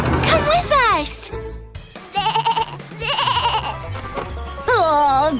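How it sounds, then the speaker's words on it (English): Baby goat bleating loudly and close, several wavering cries in a row with short gaps, mixed with a voice and other talk. "We're just about to go feed Baby Goat."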